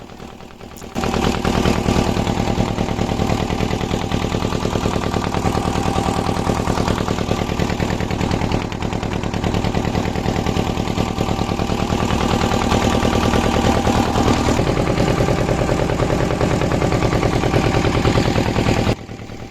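A motor boat's engine chugs loudly and close in a rapid, even throb as the boat crosses a river from the Sat Mile ghat near Bakkhali, starting after a brief quiet moment and running steadily with no talk.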